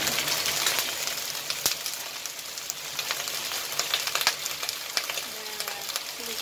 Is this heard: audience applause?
no